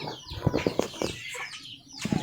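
Several chickens in the rural Philippine countryside cluck and squawk in a rapid, uneven series, with a brief flutter of wings; loud and close, then quieter before more clucking at the end.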